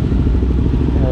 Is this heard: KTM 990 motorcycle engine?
yes